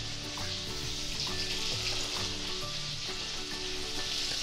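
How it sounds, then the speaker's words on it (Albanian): Sea bass fillet frying in oil in a pan gives a steady, close, crackling sizzle that holds evenly from start to finish with no talking. "Gjatë momentit që levreku fillon e skuqen të tigan"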